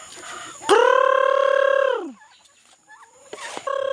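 Farmyard fowl near a coop where chickens, ducks and pigeons are feeding: one loud, drawn-out crowing call close by, then softer clucks and squawks, and another call starting at the end.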